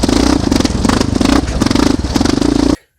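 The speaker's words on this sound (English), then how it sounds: "So this is a pretty mild quad, but Raptors from the factory have a hell of a lot of torque" A Yamaha Raptor quad with an aftermarket air filter runs loud and close, its engine chugging in a rapid pulsing rhythm with rising revs and clattering, then cutting off abruptly near the end.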